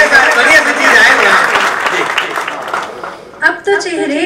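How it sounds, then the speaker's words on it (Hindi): Loud audience applause at a Hindi poetry recital during a music evening, a dense wash of clapping that fades toward the end before brief louder bursts return. "तालियों में जोरदार होनी चाहिए"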